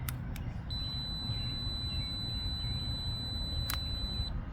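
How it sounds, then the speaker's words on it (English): A steady high-pitched electronic beep from a Troy-Bilt Mustang XP zero-turn mower's safety switch test sounds for several seconds over a low, rumbling background hum, with a couple of faint clicks at the start and end. "press the button and listen for the beep"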